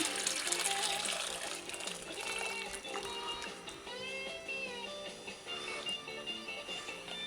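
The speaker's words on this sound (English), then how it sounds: "now I'm going to just rinse it out with some hot water" Hot running water splashes and gushes inside a metal bucket being rinsed, a continuous watery rush with shifting, ringing tones, close and steady.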